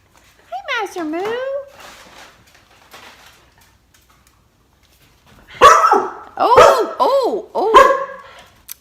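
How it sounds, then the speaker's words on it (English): Pollux, a big dog, gives a deep bark and a whine, then after a pause three loud, close barks in quick succession indoors. "Pollux has a deep, big dog bark."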